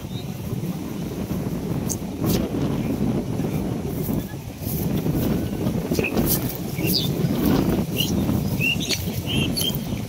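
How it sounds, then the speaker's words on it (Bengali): Strong wind buffets the microphone beside a river where people bathe, a steady broadband roar with gusts, a few faint bird chirps high above it. "বাতাস বেশি তো এই কারণে আপনার কথাও খুব একটা বোঝা যায় না আর কি"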